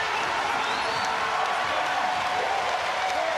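A home crowd cheers at a Perth Wildcats basketball game, a steady roar of voices and applause that fills the arena at constant volume under commentary.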